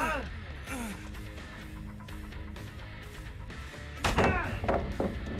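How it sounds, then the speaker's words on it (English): Fireworks go off in a video game as a series of sharp pops and crackling bursts, the loudest cluster near the end, all under the player's steady commentary. "Love the fireworks. I'm a massive fan."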